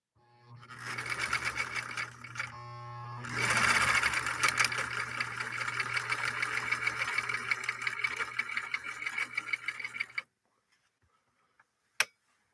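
A 1958 Husqvarna Viking Type 21 sewing machine runs a zigzag stitch through denim at regular speed, a steady close mechanical whir with rhythmic ticking that starts, briefly pauses, runs on and then stops, followed by a single click.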